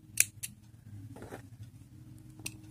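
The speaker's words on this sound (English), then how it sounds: "cut off your yarn" Scissors snip through crochet yarn in a quiet indoor setting, with two quick sharp clicks early on, a softer rustle in the middle and another small snip near the end.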